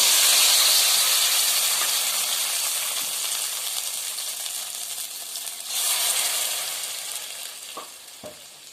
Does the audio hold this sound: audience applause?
no